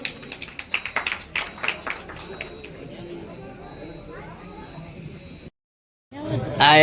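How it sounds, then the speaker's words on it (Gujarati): An audience applauding at an award presentation, a burst of scattered clapping with chatter that fades out, then a loud voice cuts in. "જોરદાર તાળીઓથી વધાવી લેજો."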